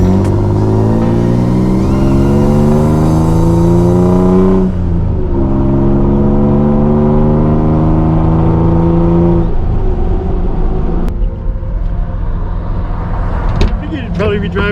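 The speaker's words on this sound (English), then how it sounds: "This is honestly the nicest driving Toyota pickup I've ever owned." A Toyota pickup truck engine drones steadily while driving, rising in pitch through upshifts, with a break near the middle and then more uneven cruising noise toward the end.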